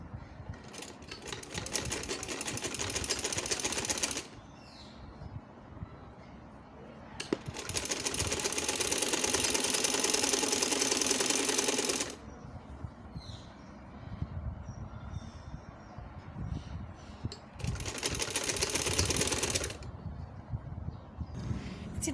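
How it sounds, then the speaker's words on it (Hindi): A sewing machine stitches a trouser seam in three loud, rapid whirring bursts separated by quieter pauses, with faint background noise and occasional bird calls between runs. "इसी तरह आपने दूसरी तरफ से भी सिलाई करके ले आना है।"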